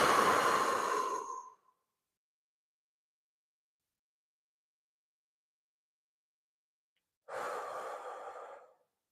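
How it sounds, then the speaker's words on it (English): Box breathing for calm before a golf shot: a slow audible breath out, a long silent hold, then another breath, each close and soft, with no talk. "breathe in, hold for a 4 count, breathe out for a 4 count, hold for a 4 count"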